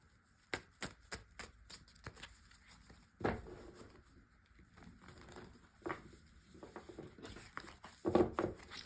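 Quick flurries of crisp card riffles and taps, coming in several short bursts with pauses between, close by and fairly loud, with no talking.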